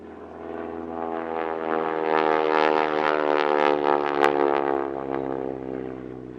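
A propeller-driven warbird trainer in SNJ-style US Navy colours passes over Duxford during a flying day, its droning piston engine and prop swelling to a loud, buzzing peak and then easing away.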